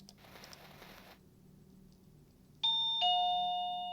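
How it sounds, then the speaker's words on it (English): A two-tone doorbell chimes loud and clear, a ding followed by a lower dong that rings out, after some quiet rustling and a faint background hum. "Apologies for the doorbell"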